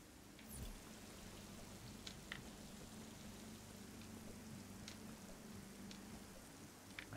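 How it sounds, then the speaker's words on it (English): Steady rain in the Metroid Dread game, a quiet, even wash of droplets with a few sharper drips scattered across it. "Berenia, it's raining"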